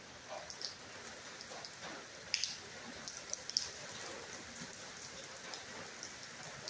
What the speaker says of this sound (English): now it's just a steady rain